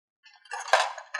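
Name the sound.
dishes, pots and utensils being gathered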